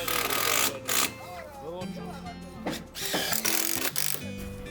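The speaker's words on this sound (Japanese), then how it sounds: "省板と同じように後ろからビス止めしていきます。" A power screwdriver drives screws into a wooden fascia board from behind on a traditional-framed house under construction, giving short motor whirs amid busy site noise with people talking.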